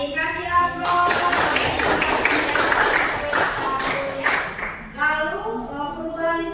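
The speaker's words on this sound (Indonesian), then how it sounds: "Baik, kasih aplaus." A classroom of students claps in a brief, dense burst of applause lasting a few seconds, sandwiched between a teacher talking before and after.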